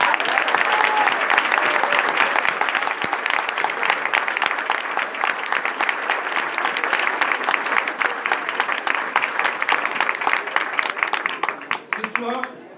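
A large audience applauds the children of Grasse at the opening of the Exporose rose festival, sustained dense clapping from a big crowd that holds steady for about twelve seconds and then tapers off.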